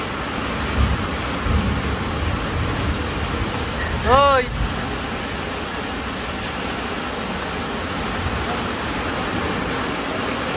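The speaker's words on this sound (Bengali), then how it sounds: "আর এখনো বৃষ্টি হয়েই যাচ্ছে" Steady rain falls as an even, wide hiss with a soft low rumble beneath it, and a brief voice is heard near the middle.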